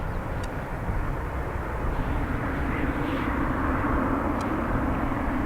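A fixed-wing airliner rolls down the runway at Dublin Airport, its engine roar a steady, broad rumble that swells gradually as it accelerates, heard from a distance without speech.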